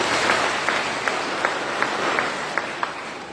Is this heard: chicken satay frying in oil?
no